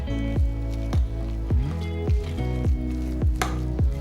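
Batter seasoned with turmeric and salt is mixed by hand after water is added, producing close, wet squishing strokes in a steady rhythm, about seven in a row.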